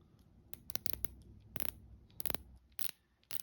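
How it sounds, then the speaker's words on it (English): Ceramic bezel insert on a titanium Seiko SKX homage watch with a 120-click bezel, turned in a quick series of sharp, close clicks in bursts with short pauses. "Very great bezel action, very clicky, responsive, very easy to turn"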